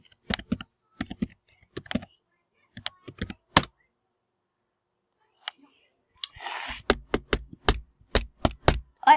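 Sharp keystrokes on a computer keyboard as a password is typed: scattered clicks in short bursts, a pause, then a quick steady run of taps, close and clear with a brief rustle midway.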